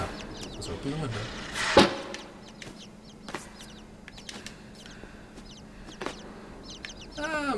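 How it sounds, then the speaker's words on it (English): Chickens cluck in the side-scrolling game INSIDE, a handful of short, scattered clucks over a dim, quiet ambience, with one louder burst partway through. "Ah, more chickens."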